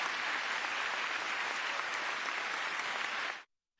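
Sustained applause after Obama's climate speech: dense, even clapping from a large audience that cuts off abruptly into silence near the end.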